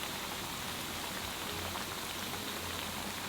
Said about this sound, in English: Place the egg tofu inside. And fry until crispy,